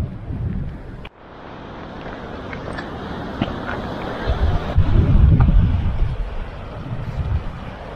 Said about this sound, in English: Lots of wind, lots of sun.